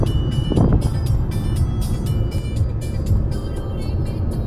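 An MG Astor SUV in sports mode cruises along the Yamuna Expressway, giving a loud, steady cabin drone of engine, tyre and road noise with wind rushing past.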